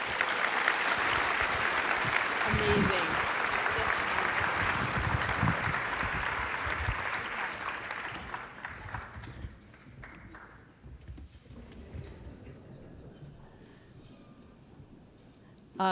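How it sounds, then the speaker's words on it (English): Audience applause for a panel at an employment champions breakfast, loud and sustained crowd clapping for about eight seconds that thins and fades, with a single voice speaking briefly over it and a quieter room afterward. "Let's give them a big round of applause."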